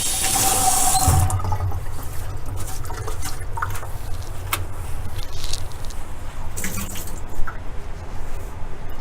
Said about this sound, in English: And then we can come back over and rinse everything out.